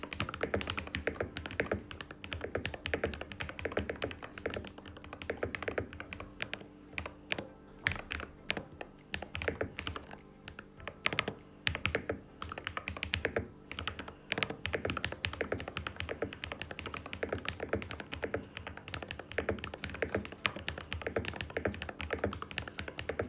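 Typing on a LUMINKEY Magger 68 HE mechanical keyboard, a steady close stream of quick clacking keystrokes with a dense, even rhythm, heard alone without talk.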